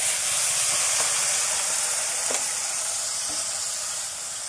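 A little water poured into a hot pan of spices for Gobindobhog rice khichuri sets off a steady, bright sizzling hiss that carries on evenly and fades a little at the end.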